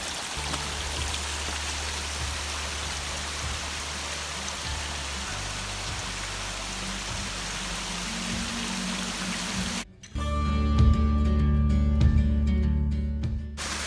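Low-flow water trickling and splashing at Snoqualmie Falls in Washington, a steady close rushing patter that turns louder and fuller near the end.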